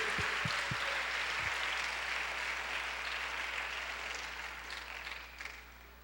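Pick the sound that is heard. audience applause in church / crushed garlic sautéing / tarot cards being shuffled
audience applause in church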